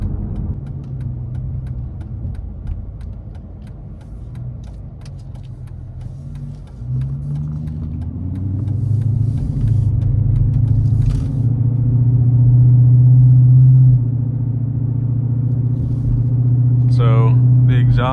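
A deep 2006 Dodge Charger R/T V8 exhaust drones and rumbles steadily from inside the moving car, swelling louder as it accelerates.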